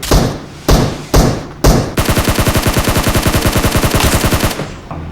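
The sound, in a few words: gunfire in PUBG Mobile video game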